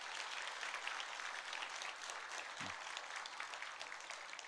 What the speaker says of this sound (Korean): 배소자 명예권사님 축복하는 마음으로 우리 박수로 한번 격려하십시오